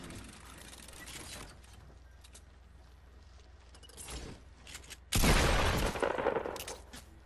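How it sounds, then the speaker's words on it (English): Video game gunfire comes as scattered, fairly faint shots and mechanical clatter, then a loud, sustained burst of firing erupts close by in the last couple of seconds. "Someone's shooting at me now."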